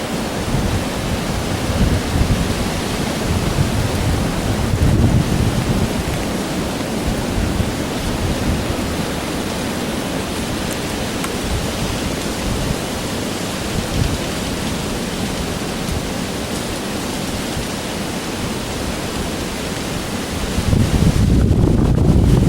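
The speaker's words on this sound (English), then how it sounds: "But I'm sure you can hear that wind." Strong wind roars steadily against the microphone in the West Virginia woods during deer firearm season, a constant rushing, buffeting noise with low gusty rumbles, swelling louder near the end.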